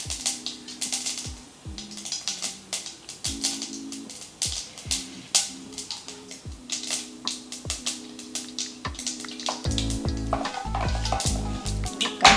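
Bitter gourd frying on high flame, a dense crackling sizzle with repeated sharp clinks and scrapes of a utensil stirring in the pan, loud and close, with no talk.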